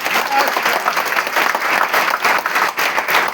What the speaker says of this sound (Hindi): उसके लिए भी तालियां बजा सकते हैं आप लोग।